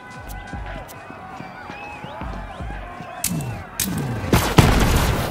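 Gunfire in the Borderlands 3 video game, fired at a cage to lower it, a series of sharp shots in a rough rhythm that builds into louder, denser blasts toward the end.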